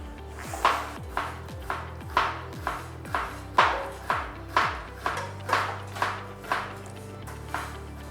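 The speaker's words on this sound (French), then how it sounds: "Pendant ce temps, je vais découper les oignons pour faire la sauce" A knife chopping onions on a cutting board in a steady rhythm of about a dozen crisp knocks, close and fairly loud, each hit ringing briefly.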